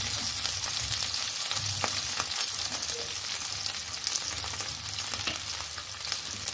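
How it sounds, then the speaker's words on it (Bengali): Potatoes fry in a pan with a dense, steady sizzle and crackle that carries on throughout, with occasional stirring noises close by. "আলুগুলোকে ফ্রাই করে নেব"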